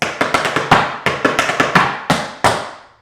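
Rapid tap dance pickup steps: quick bursts of crisp shoe taps on a hard floor, close and clear, in short rhythmic clusters with no voices.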